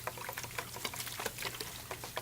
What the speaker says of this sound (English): Watered in, give them a little shot of water